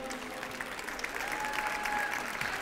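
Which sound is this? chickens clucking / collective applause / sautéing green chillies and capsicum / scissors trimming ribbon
collective applause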